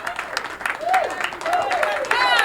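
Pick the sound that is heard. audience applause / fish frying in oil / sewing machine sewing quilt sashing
audience applause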